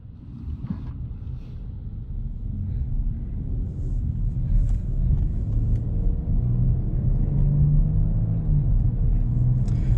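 Low road rumble and tyre noise from a Porsche Cayenne S E-Hybrid driving in comfort mode on electric charge, a steady muffled cabin drone gradually building, with faint wind buffeting and no voices.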